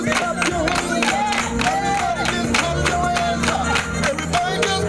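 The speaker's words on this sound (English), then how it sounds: "Everybody just clap your hands up." An audience claps hands in steady rhythm along to music at a Christmas show, the sharp claps repeating evenly throughout over a loud backing track.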